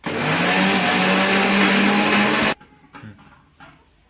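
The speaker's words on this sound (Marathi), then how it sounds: "आता याच्यामध्ये थोडी थोडी डाळ टाकू आणि ती मिक्सर मधून काढून घ्यायची" A kitchen mixer grinder grinding lentils roars loudly and steadily for a couple of seconds, then cuts off abruptly, leaving faint clinks and handling sounds.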